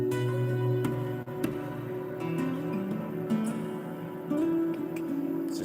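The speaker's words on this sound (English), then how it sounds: "a lot of what you're hearing is actually just the natural guitar sound stretched out" Sustained bowed guitar tones from a violin bow drawn across the strings, the instrument's natural resonance stretched into long overlapping harmonic drones with stepwise pitch shifts and a few soft bow attacks, steady and close.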